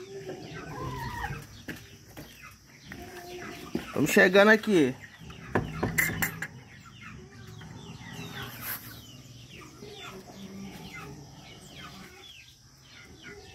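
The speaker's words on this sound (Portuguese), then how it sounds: "Olha lá o galo famoso, o galo que canta mesmo." Chickens cluck and a rooster crows nearby in a backyard coop, with a loud burst of squawking midway, while a person speaks briefly.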